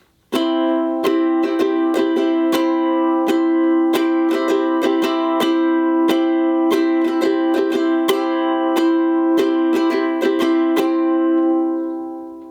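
Ukulele strumming the pattern for a song: steady repeated down-and-up strokes, bright and close, with a sustained chord ringing between sharp strum attacks throughout, no voices.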